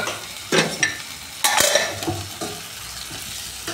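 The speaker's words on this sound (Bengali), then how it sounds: "সামান্য একটু জল দিয়ে কষিয়ে নেব।" Kashmiri chili powder and cumin powder stirred in a pan with a splash of water, close scraping and sizzling bursts with utensil clinks that fade into a soft simmer.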